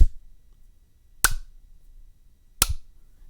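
Two sharp single hand claps, well spaced and crisp, struck close to the microphone during a live-stream sync test, each ringing briefly into an otherwise quiet room with no talking.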